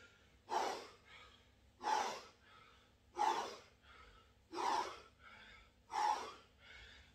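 Heavy, rhythmic breathing during an intense fighter-conditioning home workout, with five forceful, snort-like exhalations evenly spaced about every second and a half, close and fairly quiet.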